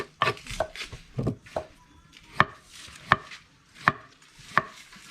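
Thin slicing of ingredients for Lao koi, a series of sharp knife chops on a cutting board at an uneven rhythm, about ten close, distinct strikes with quiet gaps between them.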